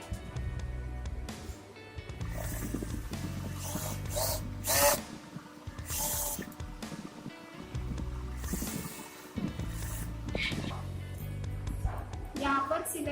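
A sewing machine stitches a Nehru kurta in short bursts of steady, humming whir separated by brief pauses, while someone talks throughout.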